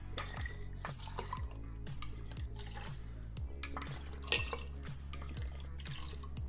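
A Campari margarita cocktail with Prosecco is built in a rocks glass, with faint liquid trickles and drips, light clinks and a rhythmic stirring against the glass, plus one sharper clink, quiet and close.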